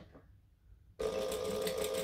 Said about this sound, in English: So now I'm going to top stitch it.